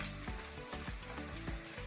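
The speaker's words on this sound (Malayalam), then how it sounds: "ഇനി നമുക്ക് കൊച്ചുള്ളി മൂക്കണ്ടേ?" Small shallots fry in a pan for a spicy Kerala-style murrel fish curry, a close, steady sizzle broken by several rhythmic stirring scrapes and knocks, quiet and without talk.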